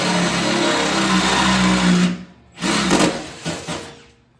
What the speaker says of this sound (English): it's just a simple matter of drilling a couple holes